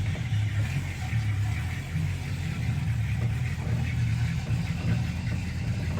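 A 1965 Chevrolet Nova Super Sport with headers idles in a steady, low, throaty rumble, close and continuous with no talk.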